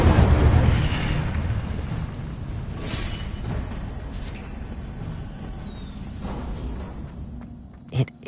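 A fire spell blast from a PS4 video game booms loudly at the start, then a sustained rumbling roar fades slowly over several seconds and ends in a sharp pop.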